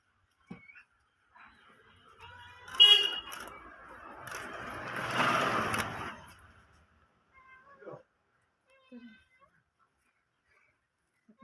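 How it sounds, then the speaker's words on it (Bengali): Drawn in by the smell of rohu fish being cut, a cat meows a few times close by in a quiet kitchen, the calls separated by stretches of near silence. "পেছনে ম্যাও ম্যাও করছে"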